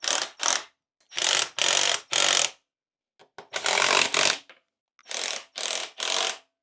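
Hand tools ratchet as a Honda Grom motorcycle tail tidy is tightened down: loud, close bursts of clicking come in short groups separated by quiet gaps.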